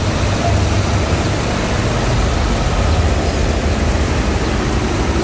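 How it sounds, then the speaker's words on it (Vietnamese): A 2010 imported Chevrolet Lacetti CDX with a 1.6 DOHC engine mounted transversely, driving the front wheels, idles steadily up close, giving a constant low rumble with no talk over it. "Máy nổ êm, khô ráo sạch sẽ."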